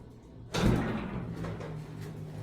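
A locked glass door at the entrance of a new police station gets pulled and rattles: one sudden loud thud and clatter, then a lingering low rumble and faint rattling, close by.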